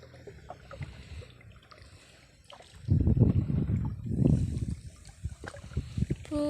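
Water splashes and gurgles as paddles push a small boat across a river, with a burst of louder sloshing strokes midway and light outdoor ambience throughout.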